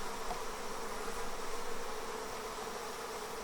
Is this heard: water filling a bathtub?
no